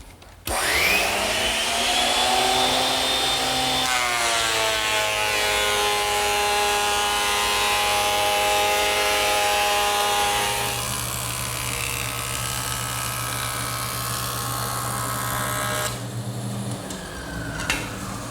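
A surface planer runs with its chip chute hooked through a hose to a shop vac, a loud continuous drone and whine with shifting pitch as the board feeds through, steady for the whole stretch.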